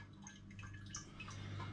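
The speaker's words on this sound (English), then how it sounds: "that's still dripping through nicely just there" Home-brewed raspberry and lemon cider drips slowly through a filter clogged with trub, a run of soft, close, irregular drops over a low steady hum.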